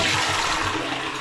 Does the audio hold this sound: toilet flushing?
yes